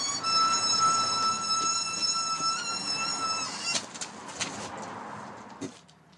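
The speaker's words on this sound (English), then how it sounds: "here's the moment I realised my wheel could use some oil." A wheelbarrow wheel that needs oil squeaks with a steady high-pitched whine while being pushed on a drainage soakaway dig, fairly close, then gives way to clunks and scraping.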